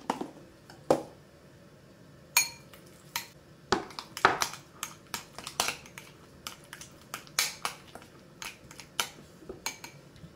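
Sharp clinks and taps of a utensil against a bowl while mixing canapé ingredients seasoned with salt, pepper and thyme, irregular bursts of close knocks over quiet background.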